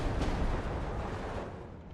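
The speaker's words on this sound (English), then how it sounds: "We're going to have to keep going with the mortar fire here." Mortar fire in the Steel Division 2 war strategy game, a dense rumbling barrage of low booms and blasts rolling continuously, loud and close with no break.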